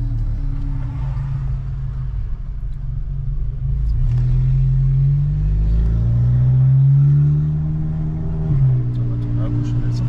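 A Seat Leon Cupra R, a 400 hp stage 2 tune with direct intake and remap, accelerates with a deep rising engine drone heard from inside the cabin, rumbling loudly under speech.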